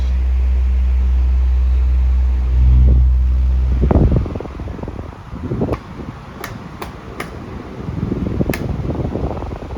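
A Windmere 16-inch pedestal fan runs with a steady low whooshing hum that stops at about four seconds, followed by clattering handling noises and a few sharp clicks and taps, then a quieter whirring resumes.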